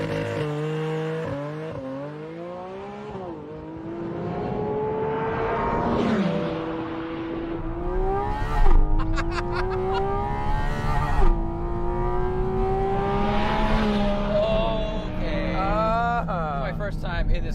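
A Porsche 911 GT3 RS sports car revs hard toward its 9,000 RPM redline, its engine pitch sweeping up and down through repeated gear changes. The sound is loud and close, and people talk over the engine.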